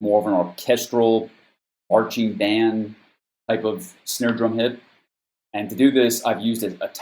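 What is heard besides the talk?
No everyday noise stands out behind the speech.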